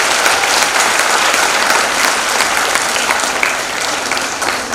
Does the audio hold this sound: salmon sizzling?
no